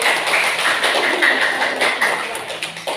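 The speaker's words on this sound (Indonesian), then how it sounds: "ya kasih aplaus dulu untuk kelompok aku" A classroom audience claps for a group of students who have just finished presenting, a dense, steady patter of many hands lasting a few seconds at moderate loudness.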